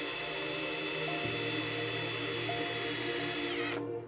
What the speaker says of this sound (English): And now it's time to drill holes where I want the roots to come out.